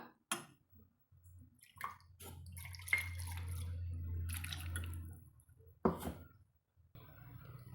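Cooking water pours steadily into a pot for a few seconds, with scattered clinks and splashes before and after.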